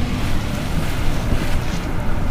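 Wind roars loudly through the rolled-down window of a company pickup truck moving along a road, a dense continuous rush with no voices.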